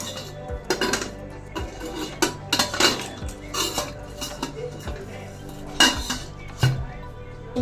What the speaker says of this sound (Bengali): প্রেসার কুকারটা লাগিয়ে